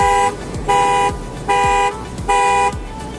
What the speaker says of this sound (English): So what happens is the alarm goes off, which is pretty weird.